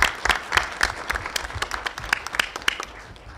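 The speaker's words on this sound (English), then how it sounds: "So another round of applause for them," Audience members at a Baltimore town hall meeting clap in a short, lively burst of applause, with individual sharp claps audible from a modest crowd, fairly close, fading slightly toward the end.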